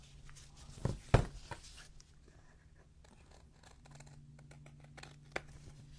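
Scissors trim paper for a handmade junk journal, a couple of sharp snips close by followed by quiet rustling and a faint later click.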